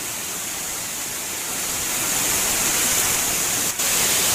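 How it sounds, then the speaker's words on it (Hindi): Floodwater rushing through village lanes after a cloudburst in Rangerh, Uttarakhand, a constant loud roar of fast-moving water that builds a little and holds steady throughout. "गलियों में कितना तेज पानी चल रहा है"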